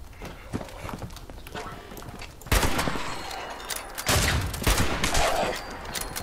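Gunfire in the video game Fallout 76 crackles in loud bursts and rapid volleys, mixed with hoof-like clatter and other game noise throughout.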